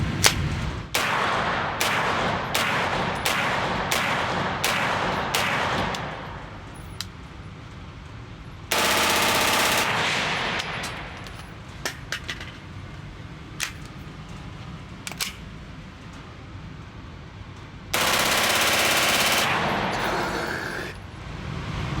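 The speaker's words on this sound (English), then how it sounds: "First time shooting the Beretta PMX, and of course, there's no better place to do that than on Beretta's firing range here" Beretta PMX submachine gun fired full auto on Beretta's outdoor range in Italy: rapid, loud bursts of sharp cracks with short gaps between them, plus two longer sustained bursts, with scattered single shots around them.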